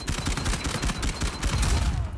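Rapid gunfire from a team firefight in Uncharted 4, dense bursts of overlapping shots crackling continuously and loudly throughout with no pauses.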